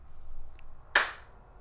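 One crisp, loud hand clap serves as a slate at the start of a model car culture podcast recording. It rings out alone after a near-silent room, with a fast decay.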